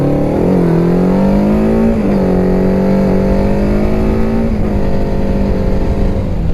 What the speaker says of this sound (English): I just love how snappy 4-cylinder bikes are